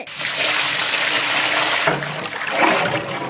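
Water gushes and splashes into a pot of rice for chicken biryani in a steady pour, briefly pausing before pouring again, close and fairly loud.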